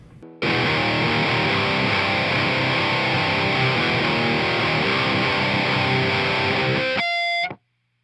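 A distorted electric guitar tuned to drop C plays the intro of a song, starting abruptly and ringing loud and sustained before a few final chords and sudden silence.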